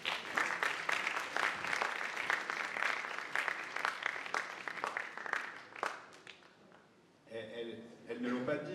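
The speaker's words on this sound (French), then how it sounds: "On peut aussi les applaudir." Applause rises from the audience at a public meeting in Clichy-sous-Bois about the 2024 Olympic Games, a steady patter of many hands for several seconds, fading before a voice speaks.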